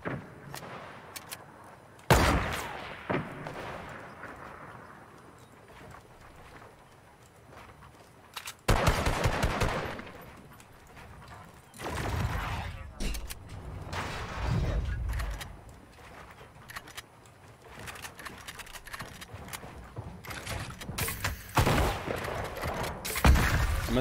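Video game gunfire in bursts and single shots, loud and close, cut by sudden heavy blasts, with scattered footsteps and a voice reacting between the volleys.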